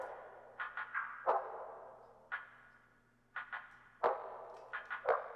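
A sparse, textural percussion loop of soft clicks, taps and airy swishes, irregular hits with decaying tails, fairly quiet.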